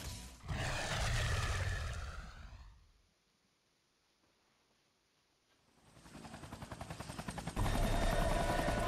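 A helicopter in the video game Devil May Cry 2, its loud rotor roar and game action fading out into near silence for a few seconds before swelling back in strongly.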